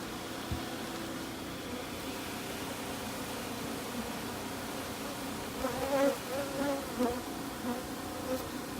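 Angry bees buzzing around a 15-year-old hive being captured, a dense, steady droning swarm close by with rising swells of louder buzzing.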